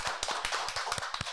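A handful of people in a podcast studio clap together, brief and sparse, with a few distinct close hand claps.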